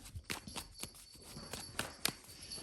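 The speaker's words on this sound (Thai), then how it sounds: "อาจจะได้ยินเสียงกระดิ่งน้องแมวนะคะ วิ่งไปวิ่งมา" A small bell on a cat's collar jingles in faint, irregular bursts as the cat runs around a room indoors.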